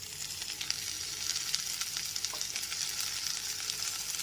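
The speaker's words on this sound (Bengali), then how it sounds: "টমেটো কুচিগুলো আদা রসুন বাটার পেঁয়াজের সাথে খুব ভালো করে কষিয়ে নিতে হবে" Chopped tomato sizzles in a pan with ginger-garlic paste and onion, a steady close hiss of frying with soft stirring scrapes and no talking.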